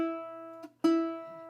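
A baritone ukulele plucks a couple of clear single notes from a song melody. Each note rings and decays softly, quiet and close, with a brief gap between them.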